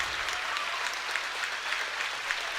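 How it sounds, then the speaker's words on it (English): Home crowd applauding steadily through a standing ovation for the seniors at a Coshocton at Sandy Valley high school boys basketball game, a dense, continuous patter of clapping throughout with no talk over it. "Nice round of applause on the home floor. Standing ovation for these seniors here."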